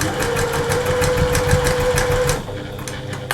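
A sewing machine runs in a fast, even rapid-fire stitching pattern along a seam of a furry cuddly bear, loud and close, stopping abruptly near the end.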